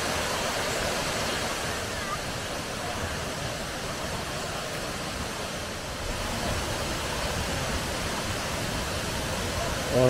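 Millaa Millaa Falls in Queensland roaring steadily, a broad continuous rush of falling water heard close with no break.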